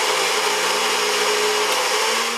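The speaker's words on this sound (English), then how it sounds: "Put the lid on and blender up." A blender whirs steadily as it mixes egg whites, cinnamon and protein powder, giving a loud, constant motor whine with a slight pitch shift near the end, close and without speech.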